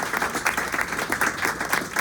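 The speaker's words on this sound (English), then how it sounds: "Let's hear a round of applause for really 3 terrific poets" A small bookstore audience gives a short, lively round of applause for poets after a reading, with close, crisp clapping in quick pulsing waves.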